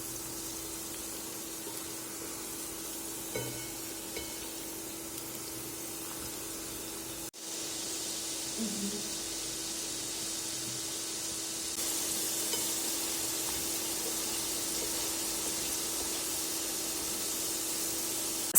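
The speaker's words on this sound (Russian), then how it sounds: "Налила немного масла и положила картошку на раскаленную сковородку." Potatoes frying in a little oil in a hot aluminium pan make a steady hissing sizzle, with a short knock partway through, after which the sizzle grows fuller and louder and holds on.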